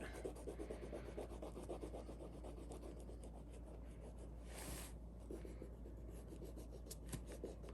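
Crayon scratching steadily across paper while a rainbow and sunset sky are colored in, a close, continuous dense rubbing in quick repeated strokes with no talk.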